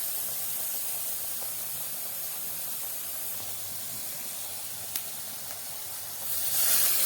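Water added to a hot pan of mola fish cooking with leaves produces a steady, even hiss of sizzling steam, close and continuous, rising slightly toward the end.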